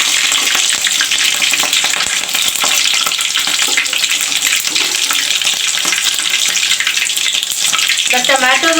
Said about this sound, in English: I will let the tomatoes fry a bit in the oil.